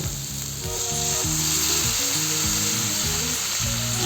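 Loud, continuous sizzling as water is poured onto vegetables and beans frying in a hot pan, with a rhythmic mechanical hum repeating underneath; no one speaks.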